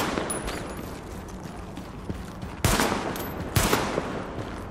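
Gunfire in The Division shooting a rat: a low rumble of background game sound broken by two sharp, loud bursts of shots about a second apart.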